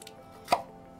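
A single knife stroke through yuca on a cutting board, one sharp close chop in an otherwise quiet kitchen moment.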